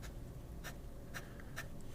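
A pen scratches across a line of notebook paper, three short rasping strokes at a quiet, close distance over faint background hiss.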